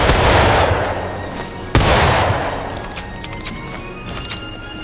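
Musket volleys crack in the Civil War video game War of Rights, two loud overlapping bursts of black-powder gunfire with long rumbling decay, followed by scattered sharper distant shots.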